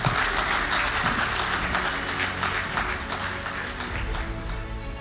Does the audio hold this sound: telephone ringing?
no